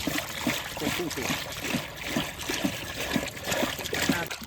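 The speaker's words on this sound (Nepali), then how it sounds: "अब यो सिध्याउँ अनि पानी हालौँ" Water trickles and splashes steadily as it is poured, with voices murmuring in the background.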